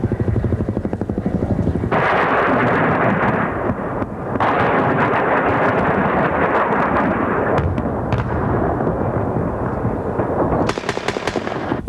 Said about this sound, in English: Fired from those Cobra helicopter gunships, Zuni rockets and Hellfire missiles